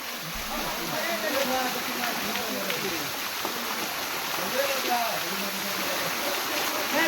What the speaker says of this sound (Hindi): तो अब हम इस झरने के पास जा रहे हैं